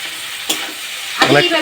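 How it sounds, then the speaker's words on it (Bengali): Chopped garlic frying in hot oil, a steady sizzle broken by two brief scraping stirs of a spatula in the pan. "রসুনটা ভাজা হয়ে গেছে"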